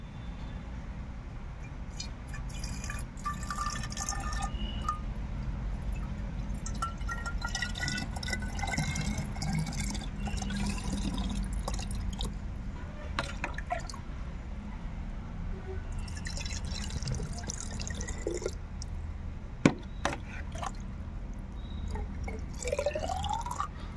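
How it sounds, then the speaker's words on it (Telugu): Water trickles and drips steadily into a glass bottle being prepared for a money plant, a soft continuous pour with faint clinks, no talking. "ఈ వాటర్ పోసుకోండి"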